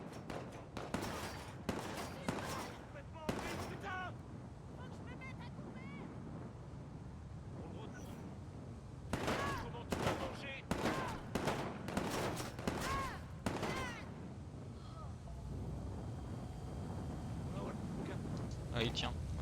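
Enemies fire on the player in Watch Dogs 2, with repeated bursts of gunfire in clustered volleys separated by quieter gaps, loud and close over a low background rumble.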